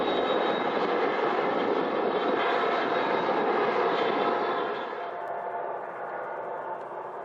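A BNSF freight train led by a GE ES44AC locomotive rolls past on Colorado's Joint Line along the Front Range, a steady broad rumble and roar that holds for several seconds before slowly easing off.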